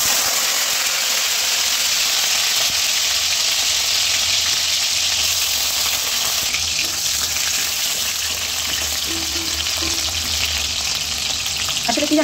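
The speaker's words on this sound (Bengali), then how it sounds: "তো এবারে আস্তে আস্তে এক একটা করে ভাজি" Pieces of food fry one at a time in plenty of hot oil in a pan, a loud, dense, continuous sizzle with faint stirring and no voices.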